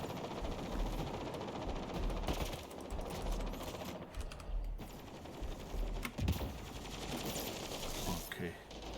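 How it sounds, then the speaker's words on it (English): Bursts of automatic gunfire in the video game Mass Effect Andromeda, loud and fairly continuous across the clip with brief lulls, mixed with game voices and combat effects. "Hey, stop shooting me."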